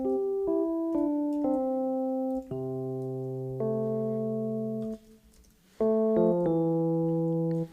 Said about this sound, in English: I'm going to use the Mark I, which is basically a Fender Rhodes.